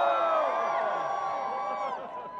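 A concert crowd at House of Blues Houston cheers and whoops for a rock band, a loud, sustained roar of many voices that eases off slightly near the end.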